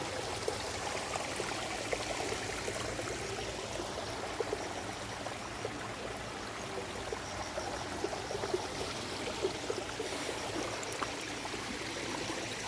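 A forest stream flows steadily nearby, a constant rushing, trickling wash of water with no voices, unbroken throughout.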